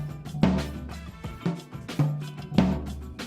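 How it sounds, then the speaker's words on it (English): Toms and a floor tom on a drum set struck one after another, four or five resonant pitched hits with ringing low sustain, played close and alone. "So this is what they sound like."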